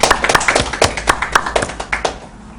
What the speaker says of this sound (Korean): 수고하신 분들을 위해서 작지만 박수 한번 보내겠습니다